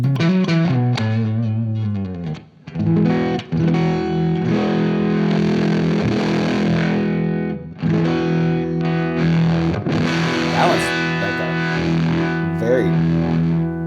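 Distorted electric guitar through silicon and germanium fuzz pedals, chords and riffs with a thick, fuzzy saturated tone, playing loudly and continuously, with one brief gap, then resuming.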